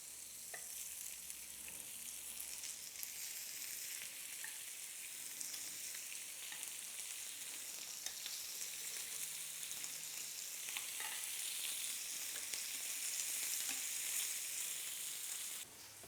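Lamb cutlets frying in a pan give off a steady, even hiss of fat that runs for about sixteen seconds, close and fairly quiet, with small crackles and no voices.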